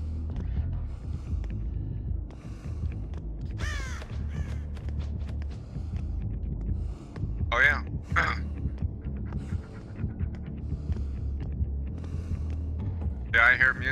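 Dead by Daylight match where the killer Legion's terror radius brings a low, throbbing heartbeat-like pulse and droning music, steady and loud beneath sparse game effects and brief crow caws, with a player speaking briefly.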